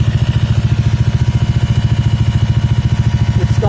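A Bajaj Dominar 400 motorcycle engine runs close up with a steady, rapid pulsing throb at a fairly even speed, alone with no voices.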